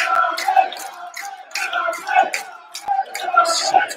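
Shelbourne football supporters chanting in unison in the stadium during a match against St. Joseph's, a rhythmic, swelling crowd song with repeated phrases, heard from a distance across the ground.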